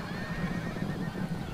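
A horse neighs in the video game Rome Total War during an online battle with upgraded cavalry; one steady, loud whinny over battle din, no talk.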